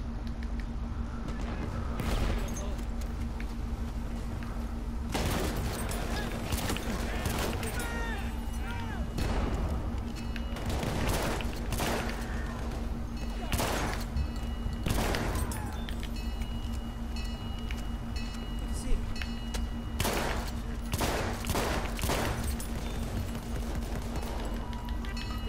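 A shotgun in the Battlefield video game fires in a dozen or so sharp, separate blasts spread irregularly over a busy background of game noise, with a steady hum beneath, in a tense operations match.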